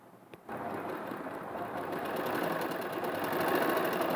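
A sewing machine stitches a blouse back neck design with lining. After a short quiet start it runs at a steady, continuous whirring pace that grows slightly louder, with no talk.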